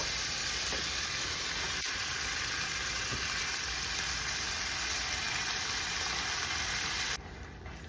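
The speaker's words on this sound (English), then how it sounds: "Now that our butter is nice and melted, I'm gonna add our spaghetti in there." Spaghetti is tossed in melted butter in a hot pan, giving a steady close sizzle with faint stirring clicks that cuts off abruptly near the end.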